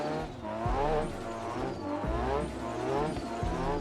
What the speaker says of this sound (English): Rev it up, drop the clutch, and then just hold the wheel.